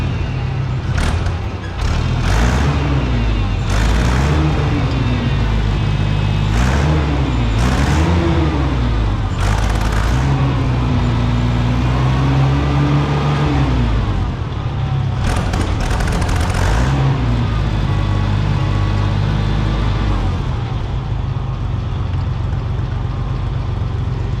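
An Oliver 880 tractor engine with a newly replaced Zenith carburetor, loud and close, revving up and down repeatedly before settling into a steady run.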